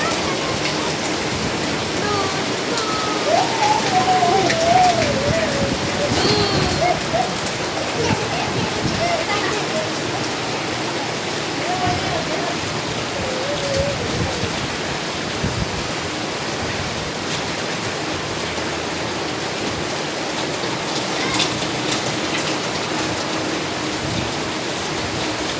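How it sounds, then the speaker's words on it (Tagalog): Heavy typhoon rain pours steadily in a loud, continuous hiss, with strong wind mixed in and occasional faint voices underneath. "Kusog ng ulan."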